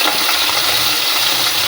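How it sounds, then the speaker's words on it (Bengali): Meat dropped into hot oil crackles and sizzles loudly and continuously, a dense, close, hissing fry with no speech over it. "গরম তেলের মধ্যে মাংস দিতেছি"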